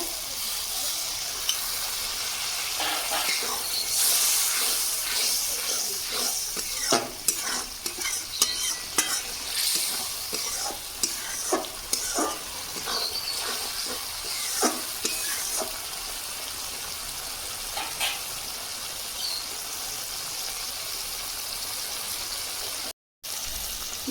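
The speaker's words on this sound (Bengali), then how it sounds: "মশলা থেকে তেল ছাড়তে শুরু করে গেছে দেখুন মশলা কষানো হয়ে গেছে" Spice paste for a red Bengali fish curry sizzles in a pan while a spatula scrapes and stirs it steadily, with sharp clinks and scraping strokes over a continuous frying hiss, close and fairly loud.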